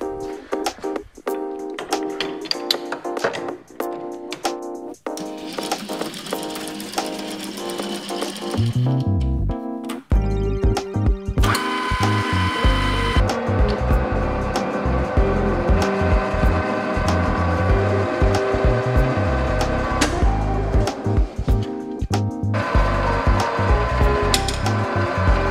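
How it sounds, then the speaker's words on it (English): A metal lathe turns bushes for a custom pedal box on a jet tank racer, running with a steady mechanical whir and rattling tool chatter, then growing louder and harsher midway as cutting begins. "Let's get this in the lathe and make it look pretty then."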